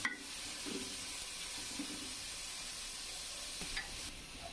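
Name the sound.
onion frying in oil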